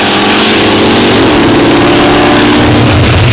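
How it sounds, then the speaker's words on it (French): A loud, roaring V6 turbo drag racing engine of over 800 horsepower at full throttle, with the pitch climbing as it accelerates, harsh and close throughout the short burst. "Son moteur, un V6 turbo dont la puissance dépasse les 800 chevaux"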